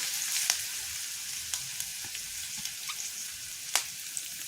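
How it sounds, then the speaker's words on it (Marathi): Two chopped onions fry in hot oil for an egg bhurji, giving a steady, close sizzle with small pops and the scrape of occasional stirring, and no voices. "ते कांदे आपल्याला लाल होईपर्यंत भाजून घ्यायचं कांदा हा कांदा मध्यम गुलाबी कलर येईपर्यंत परतून घ्यायचा तेलावर"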